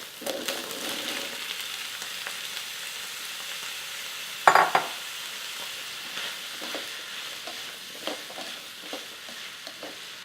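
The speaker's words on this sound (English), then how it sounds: "I'm going to go ahead and add my vegetables" Chopped potato, zucchini, mushroom, green beans and carrot tumbling into a hot pan for a desi vegetable curry, a soft steady sizzle with a sharp clatter and hiss as they land, then gentle stirring scrapes.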